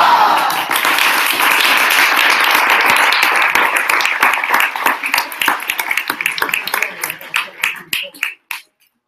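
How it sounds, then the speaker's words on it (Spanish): A crowd in Madrid applauds Lara at a web development bootcamp showcase, a loud dense burst of clapping that holds for several seconds, then breaks into scattered claps and dies away. "vamos a recibir con un gran aplauso desde Madrid a..."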